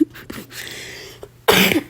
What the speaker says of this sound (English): I was holding back a cough.